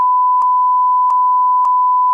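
A single steady censor beep tone runs unbroken at constant pitch and loudness, with faint clicks at three points along it and no voices.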